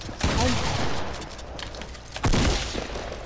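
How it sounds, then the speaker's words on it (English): Bursts of rapid gunfire from a Fortnite match crackle through a busy game mix, with a louder volley near the end and a voice briefly audible underneath. "Where are her shots going?"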